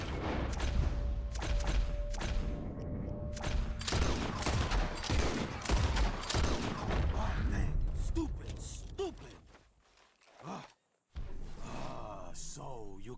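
Rapid volleys of gunfire in Red Dead Redemption 2 as players shoot at flying birds, dense bursts over game ambience with voices talking, a brief near-silent gap, then more shots.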